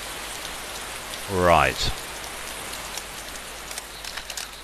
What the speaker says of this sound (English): different server, pissing down with rain